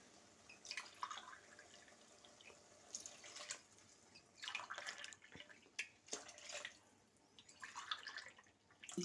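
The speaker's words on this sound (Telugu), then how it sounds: "ఈ గ్లాస్తో వాటర్ మూడు గ్లాసులు పోసుకుంటున్నానండి" Water splashes and pours from a glass in several short bursts, measured onto semolina, with brief pauses between pours and faint clinks of a container.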